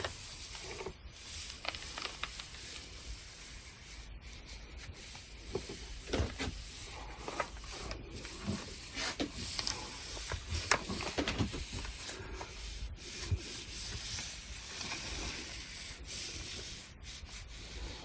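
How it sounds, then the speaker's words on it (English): A steady dry rubbing and hissing as an iron glides repeatedly over a paper-backed napkin, soft and close, with no voices. "So I'm going to iron this"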